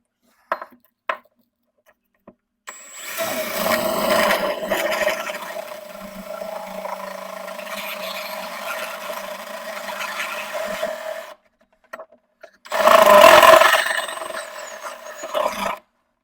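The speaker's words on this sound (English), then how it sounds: "we're gonna get to drill some holes" A power drill whirs in a long sustained burst, stops, then a shorter, louder burst follows, with clicks and taps around it, drilling holes for a Kawasaki X2 rear exhaust modification.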